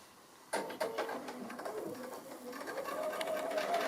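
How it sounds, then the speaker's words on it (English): A sewing machine free-motion stitching around a tree trunk appliqué with dark grey thread, feed teeth lowered, starts after a brief quiet lead-in and then runs steadily, close and fairly loud, with a shifting motor hum. "I'm just free motion stitching"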